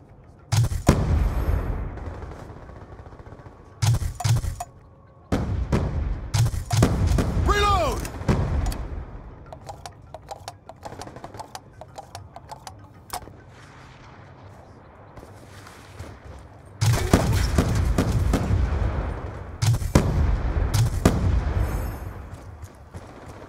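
In Call of Duty: Black Ops 2 multiplayer, War Machine grenade launcher blasts and other gunfire come in bursts of heavy booms and crackling shots, with quieter stretches between them and game voice callouts over the top.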